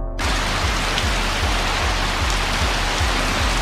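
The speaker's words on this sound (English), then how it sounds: "got a nice rain and music effect going now" Steady rain sound effect in the Shadowrun game setup, loud and continuous broadband hiss with faint low rhythmic pulses of accompanying music underneath, no voices.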